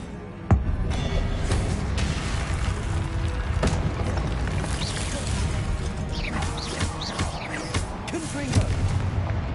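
Confringo fire-blast spells going off in the Hogwarts Legacy video game, a dense run of booming bursts and crashes mixed with game music and effects, with a sharp hit near the start.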